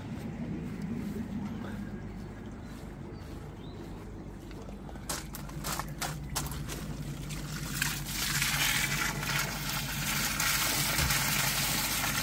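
Murky green water pours from a pump-fed DIY three-barrel koi pond filter, a trickling splash under a low pump hum that swells into a louder gush toward the end.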